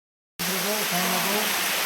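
A small waterfall gives a steady broadband rush of falling water that starts abruptly after a brief silence, with someone speaking over it.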